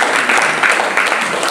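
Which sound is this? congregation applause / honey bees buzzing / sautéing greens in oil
congregation applause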